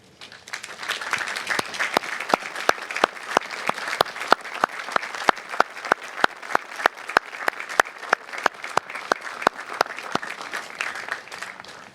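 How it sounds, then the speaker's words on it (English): Warm, steady applause from a commencement ceremony audience for standing faculty and staff, continuous clapping with a few sharp, close claps standing out in a regular beat over the broader crowd. "I would like our faculty and staff to stand so everybody here can give you a very warm applause"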